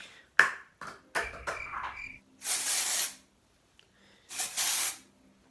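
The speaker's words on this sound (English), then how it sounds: "I'm just gonna spray that over your head." Several short hissing bursts of an aerosol spray, two longer blasts among quick clicks and taps, close by with no talking.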